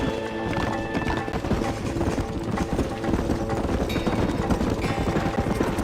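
Horses galloping in the Western video game Red Dead Redemption, a steady, loud drumming of hooves throughout with occasional whinnies and faint background music.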